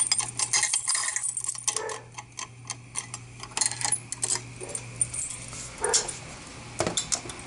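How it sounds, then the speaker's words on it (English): Dog barking in the background alongside a steady ticking, with clicks and rattling up close; the barks are moderate and intermittent rather than prominent. "There's your dog barking."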